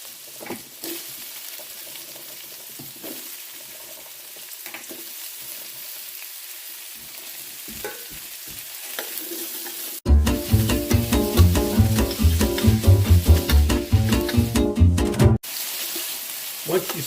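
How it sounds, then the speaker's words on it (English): Garlic and zucchini sizzle steadily in a hot pan for zucchini minestra while being stirred, with faint scraping taps; a loud burst of music then plays over the frying before it returns. "we're going to stir in the garlic. And add in the zucchini."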